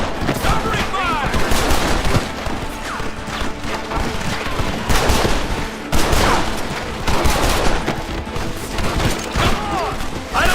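Dense battle gunfire with rapid bursts and overlapping shots, loud and relentless throughout, with heavier impacts and crashes mixed in and shouting voices partly buried under the noise.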